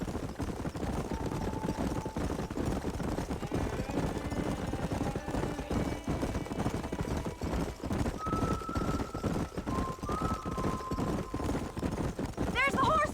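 Horses in Red Dead Redemption on Switch galloping with continuous clip-clop hoofbeats, several neighs and whinnies rising over the rhythm, with voices talking now and then.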